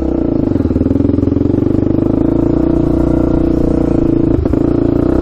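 A warmed-up quad ATV engine runs loud and close on a test drive, a steady throbbing rumble with a brief clattering bump near the end and no talk.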